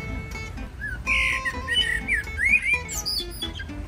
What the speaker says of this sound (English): Jeez, these birds are very enthusiastic at the moment.